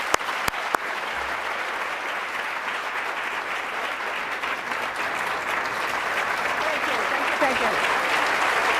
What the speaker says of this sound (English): Not every audience gives you a standing ovation before you say anything.